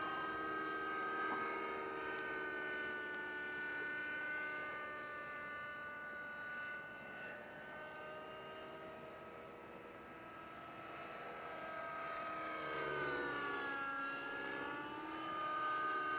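A remote-control helicopter hovering and flying, giving a steady high whining rotor and motor drone that holds for the whole stretch and rises in pitch near the end, moderately distant and without speech.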